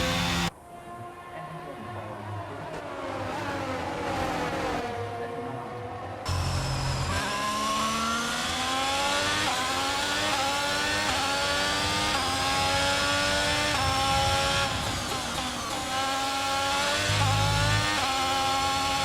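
Formula 1 race cars in F1 22 at the Saudi Arabia circuit scream through gear shifts, high engine notes rising and falling repeatedly as they accelerate out of slow corners, steady and loud with no talking.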